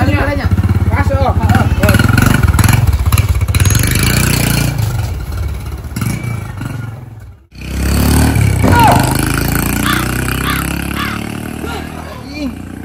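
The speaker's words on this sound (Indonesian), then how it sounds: "Motor aing geus oding deui wae" A motorcycle engine runs loud and close, idling and revving, with a brief dropout midway before it picks up again; voices can be heard over the engine.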